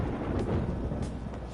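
A low distant rumble of thunder before rain in Persona 5 Royal, rolling on for a moment as one soft wash of sound with no voices.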